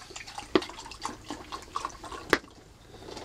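Half a cup of water poured into a cup in a yurt kitchen, heard as light intermittent splashes and drips with a couple of sharper clinks, close and fairly quiet.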